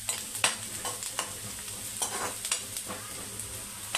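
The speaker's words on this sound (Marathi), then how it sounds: "आता व्यवस्थित कांदा आपल्याला परतून घ्यायचा आहे" Onion sautéed and stirred in a pan for a Maharashtrian sandge bhaji, with a steady close sizzle broken by repeated scraping stirs about every half second, no talking.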